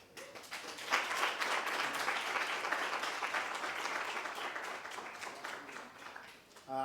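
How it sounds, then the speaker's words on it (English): An audience at an education forum breaks into sustained applause, dense clapping that swells quickly and holds steady for several seconds before tapering, with a voice returning at the very end. "I think we need to give another round of applause for Comrade SG."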